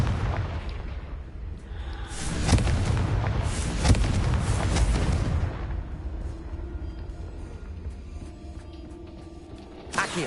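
A Confringo blasting spell in the Hogwarts Legacy game erupts in a loud, rumbling explosion lasting a few seconds before fading into quieter background ambience.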